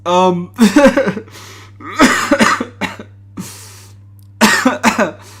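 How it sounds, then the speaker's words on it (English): Several harsh, close coughs in short bursts, separated by brief pauses, with a throat-clearing quality and a faint low hum underneath. "I have a bit of a cough"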